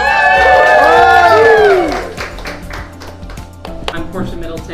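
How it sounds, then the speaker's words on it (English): A crowd at a campaign fundraiser for a councilwoman running for Assembly lets out loud whooping cheers, which fade after a couple of seconds into scattered clapping and quieter crowd noise. "Let's give her a round of applause."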